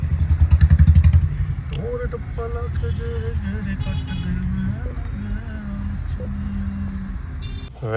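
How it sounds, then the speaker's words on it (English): Dense road traffic with motorcycle and car engines rumbling close by, a loud engine revving at the start, steady mixed vehicle noise throughout, and brief horn-like tones under the din; people talk faintly at times. "Now we are stuck in the traffic."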